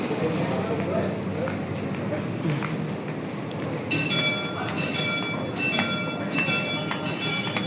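The Sangkuriang passenger train departs with a low rolling rumble, and then a repeated bell-like ringing comes in loud, pulsing bursts. Voices speak over the train.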